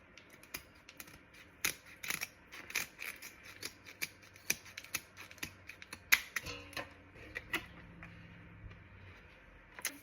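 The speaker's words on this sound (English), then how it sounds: "So the next thing I'm gonna do is trim the tail down." A mullet fish's tail being trimmed on a cutting surface: a close, irregular series of sharp snips and clicks, with no talking.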